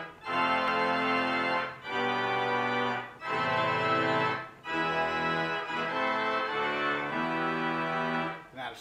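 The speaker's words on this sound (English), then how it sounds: "Combined with the swell flute chorus, you have a full swell that sounds something like this." A residence pipe organ's full swell, reeds joined by a flute chorus, plays a rich sequence of sustained chords in several phrases, each separated by a brief pause, full and resonant without any voice.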